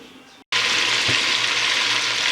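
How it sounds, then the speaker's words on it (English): Onions, carrots and garlic sizzling in a Dutch oven, a steady loud hiss of frying that starts abruptly after a brief gap and holds evenly with a small clink partway through. "I got the mirepoix simmering, sauteing, I guess, in the Dutch oven"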